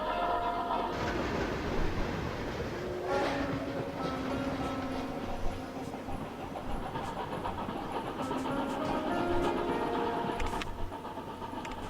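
A train runs along the rails in the railway simulation game Chris Sawyer's Locomotion, giving a steady rolling rumble with faint metallic clicks and brief higher tones, continuous and fairly loud, with no voices.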